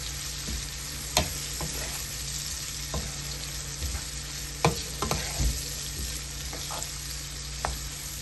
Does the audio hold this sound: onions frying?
yes